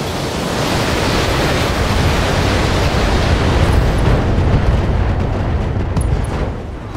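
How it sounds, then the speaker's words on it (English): An ammo explosion in the mech combat video game Battletech erupts as a loud, sustained rumbling roar that swells and slowly fades over several seconds, with no talking. "I bet that was some kind of ammo explosion."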